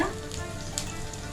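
Ginger and garlic sauté in a pan for a Kerala fish curry, a steady close crackling sizzle with a brief stir partway through.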